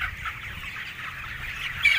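Hens cluck continuously in a busy chorus inside a closed-house poultry coop, close and fairly loud, with no talking.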